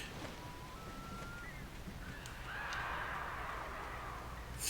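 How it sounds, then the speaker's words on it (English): Crows caw in the Alan Wake video game, several harsh calls rising together over a steady ambient wash, moderately loud and slightly distant. "That was a lot of bird noise."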